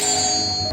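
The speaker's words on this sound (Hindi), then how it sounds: "घंटी बजती है" A doorbell rings once as a story sound effect, a short bright sustained chime that holds steady and then cuts off.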